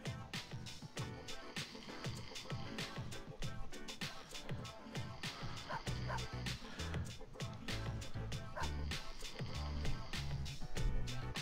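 Dogs bark and yip in the video game Persona 3 FES, rapid repeated barks over a dense, loud game soundtrack, with voices talking at times.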